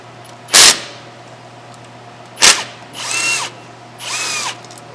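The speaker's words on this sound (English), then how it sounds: "because we're using an impact to break them free, they come out easily" Impact wrench breaking loose size 13 brake caliper bolts on a 2015–2020 Ford F150 front brake, with two sharp loud hammering bursts followed by two longer whirring runs as the bolts spin out, close up with no talk.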